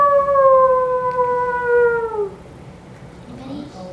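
A person imitates a wolf with one long, smooth howl that holds steady for about two seconds and then trails off, followed by quiet room noise.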